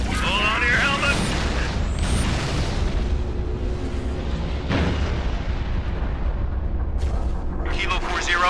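Artillery fire support barrage in the video game Halo Reach, a string of loud booming explosions rolling and overlapping for several seconds, close and heavy, with radio-style voices talking over the blasts.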